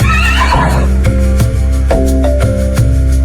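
A white horse gives a loud, close whinny near the start, set against steady background music with a regular beat.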